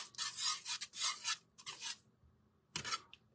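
A whisk scrapes through thickening chocolate syrup in a pan, giving several close, raspy bursts of stirring with short pauses between them.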